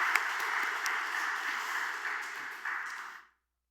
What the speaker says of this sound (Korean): 우리 경배 찬양팀을 위해서 우리